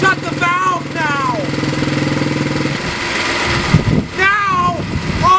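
A loud engine drones with a rough, roaring exhaust routed through a CO2 muffler, its steady throb giving way to a rushing noise as a voice talks over it.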